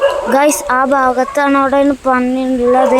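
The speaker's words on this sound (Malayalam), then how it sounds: "പട്ടികളൊക്കെ കുരക്കുന്നുണ്ട് ഗൈസ്" Dogs bark repeatedly from nearby at a house where a wild pig has come close, their yelping mixed closely with someone talking over them throughout.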